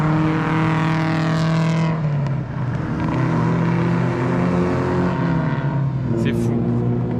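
Loud vintage race car engines roar past at close range on the Paul Ricard circuit during the Tour Auto, their pitch sliding as they pass, one after another with overlapping whines.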